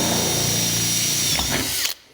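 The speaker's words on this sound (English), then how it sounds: "Drill that, and we're just going to pop a rivet in there" A power drill bores through metal trim on an insulated metal-clad garden room, giving a loud, steady, close whine for about two seconds before it cuts off abruptly.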